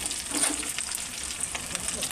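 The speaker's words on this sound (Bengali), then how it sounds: "কাঁচা লঙ্কাগুলো একটু ভেজে ভেজে" Slit green chillies frying in hot oil with ginger make a close, continuous sizzle, with light stirring scrapes through it and no talking.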